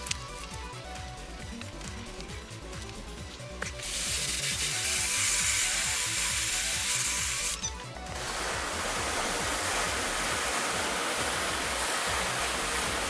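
Water sprayed onto a car body after an Autobacs AQ. water-repellent gloss coating is applied, a steady broadband hiss that starts, pauses briefly and resumes, close and continuous with no talk.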